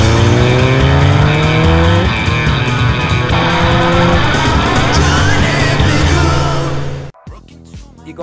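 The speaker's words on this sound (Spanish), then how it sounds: "arrancamos con el Mundial de Motocross en tierra mexicana, en León" Motocross bikes racing at the World Championship round in León, Mexico, loud high-revving engines rising and falling in pitch as several machines pass close together, continuous for about seven seconds before cutting off abruptly.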